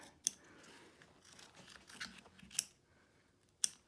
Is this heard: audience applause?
no